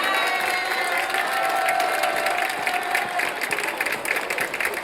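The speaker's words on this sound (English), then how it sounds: "Let us give a huge round of applause for Ankit." A school audience at an annual fest claps and cheers in a sustained, dense wash of applause that stays loud and steady throughout, with no clear voice on top.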